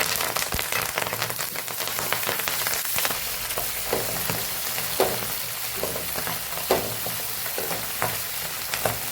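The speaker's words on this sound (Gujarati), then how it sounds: "અહીં આપણું તેલ મસ્ત એવું ગરમ થઈ ગયું છે તો મેથીને આપણે સાતળી લેવાનું છે" Fenugreek leaves sauté in hot oil for a Gujarati methi bhakhri, a dense continuous sizzle broken by frequent sharp clicks and scrapes of stirring, close and fairly loud, with no voices.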